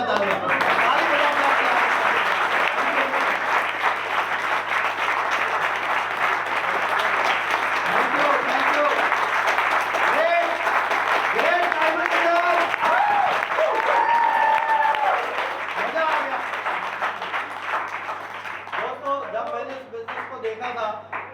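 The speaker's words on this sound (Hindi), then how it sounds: "तो एक बार अपने लिए और जोरदार तालियां बजाओ।" A crowd at a recognition and sharing event in a hall gives loud, sustained applause, a dense unbroken wash of many hands clapping that runs for about twenty seconds and eases slightly toward the end.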